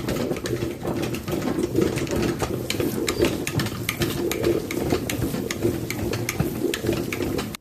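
A Hakka meat mixer churns cold ground meat with spices and green onions, giving a continuous mechanical whir and rattling hum with rhythmic clicking, steady and close throughout.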